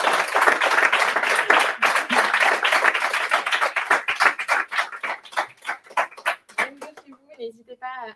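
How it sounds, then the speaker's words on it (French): An audience at a meetup talk applauds the speakers, starting as a dense burst of clapping that thins into fewer, separate claps before fading, with a voice speaking at the end. "Je pense qu'on peut encore les applaudir."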